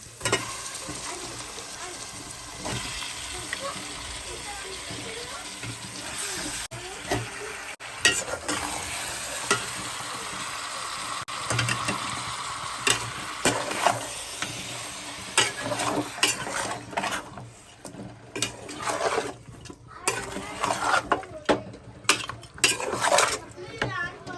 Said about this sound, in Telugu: చికెన్ ఏంటంటే నూనెలో ఫ్రై చేయాలి